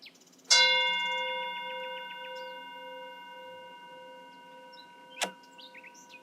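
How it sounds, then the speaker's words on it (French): A gong is struck once with a sharp attack and a long, slowly fading resonant ring with clear sustained tones. A second short strike comes near the end, and there is no talk. "je vais d'abord vous faire le petit coup de gong"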